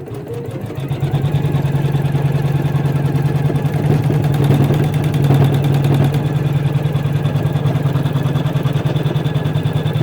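An embroidery machine stitches a koala lovey in a steady, fast mechanical whirr with a rapid needle rhythm, loud and close throughout, with no voices.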